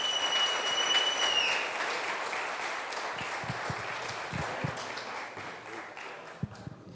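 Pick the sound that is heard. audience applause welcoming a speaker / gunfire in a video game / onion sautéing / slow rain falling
audience applause welcoming a speaker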